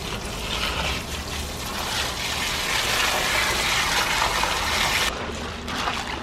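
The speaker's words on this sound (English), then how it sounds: "I'm rinsing it, getting all the dust and dirt off." Water runs steadily over dusty hydroponic pebbles as they are rinsed, a continuous splashing gush that cuts off abruptly near the end, with no voices.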